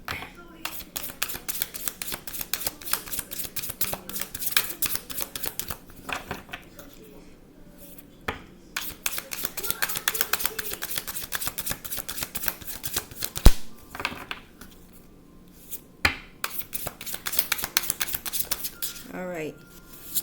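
Tarot cards are shuffled by hand in rapid bursts of riffling and flicking, close and crisp, with short pauses between bursts.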